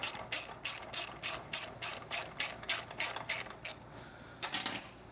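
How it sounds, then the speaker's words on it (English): A 12mm ratcheting wrench tightens a nut on a British Customs GP exhaust for a Triumph Street Twin or Speed Twin 900 motorcycle, with about a dozen close, crisp bursts of ratchet clicking in an even back-and-forth rhythm and no talking. "A 12mm wrench, 6mm hex, 24 Newton meters."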